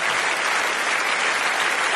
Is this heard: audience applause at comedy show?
yes